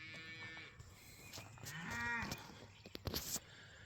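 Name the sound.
cattle mooing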